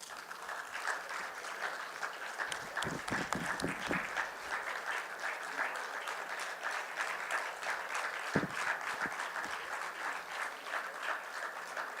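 Audience applause and standing ovation at a charity ramp walk for organ donation, sustained dense clapping from a large crowd at an even level, with a few sharper individual claps standing out.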